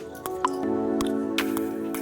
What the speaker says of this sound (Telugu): స్టవ్ ఆన్ చేసి ఒక గిన్నె పెట్టి దానిలో ఒక 1/2 లీటర్ వాటర్ వేసుకుందాం.